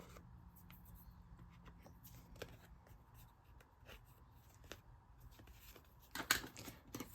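Blade cuts into a paper card base while making a fractured shutter card, quiet scratchy snips and scraping strokes in a hushed room, with a louder rustle near the end.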